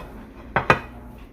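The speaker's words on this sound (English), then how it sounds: "So we're gonna plate our dish." Salmon with a savory glaze being plated: two quick, close clinks of cutlery against a dish, close together, over a quiet kitchen background.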